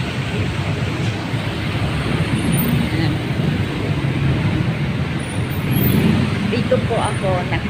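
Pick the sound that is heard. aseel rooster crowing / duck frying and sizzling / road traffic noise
road traffic noise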